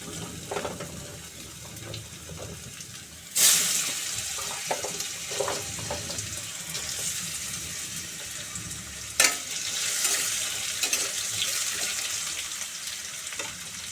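Diced vegetables, potato and pumpkin, dropped into a hot pan with oil and asafoetida, a sharp splash-sizzle burst followed by a steady frying hiss and stirring scrapes, with a second burst later as more goes in.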